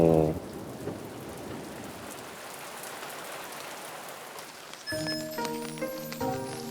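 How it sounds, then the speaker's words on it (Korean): Steady rain falls with a constant dense hiss for several seconds during a drive, and brief tonal sounds come in near the start and the end. "근데 비가 또 좀 깨우기 시작했네요."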